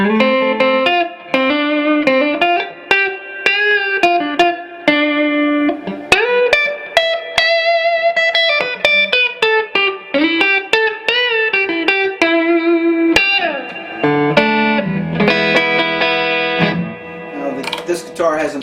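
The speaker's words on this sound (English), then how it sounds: "This guitar has an onboard distortion, which is called the QDD." Electric guitar played through its neck pickup with its built-in QDD distortion engaged, a saturated, sustained overdriven tone with chords and riffs ringing continuously and loudly throughout, no talking.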